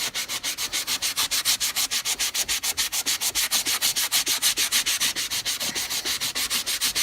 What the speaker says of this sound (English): these are another form of sanding. They're sanding sponges.